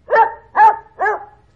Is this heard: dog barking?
yes